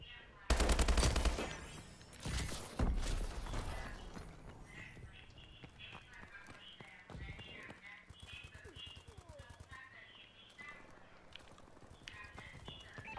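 Rapid bursts of STG44 gunfire in the online shooter Call of Duty: Advanced Warfare, loud volleys early then sparser shots and game effects continuing beneath a speaking player.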